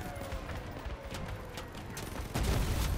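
A triple Miller minigun setup on a spider-legged build in Crossout fires at enemies, making a continuous rattling fusillade at moderate volume that grows heavier and louder near the end.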